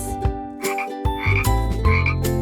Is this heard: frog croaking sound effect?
yes